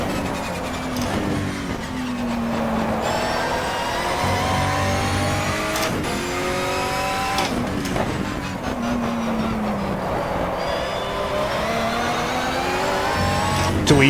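Race car engine in the GTR2 racing video game, loud and up close, revving up through the gears with repeated shifts and falling pitch between them, continuous throughout.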